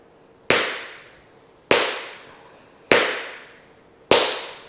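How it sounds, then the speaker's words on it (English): Four sharp, evenly spaced taps ring out one after another, each with a quick bright attack and a short decaying tail: tap shoe spanks, the ball of the foot brushing backward. "Now we're going to do a spank, and that's the ball of the foot brushing to the back."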